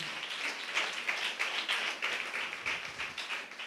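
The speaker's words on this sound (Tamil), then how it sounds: "நல்லா கைத்தட்டி ஆண்டவருக்கு நன்றி சொல்லுங்களேன்." A church congregation clapping hands in thanks during a Tamil sermon, fairly rhythmic and moderately distant, continuing steadily for a few seconds without talk.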